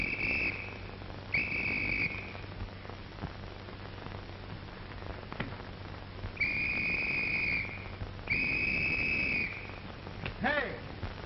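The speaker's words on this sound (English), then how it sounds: "Hey, was you blowing a whistle?" Shrill whistle blown in several long sustained blasts, two short ones early and two longer ones later, with a faint crackling background in an old 1932 film recording.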